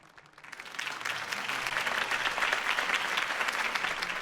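A crowd applauds after a campaign speech in the Batman Telltale video game, the clapping swelling within a second into a dense, sustained roar of hands that holds steady to the end.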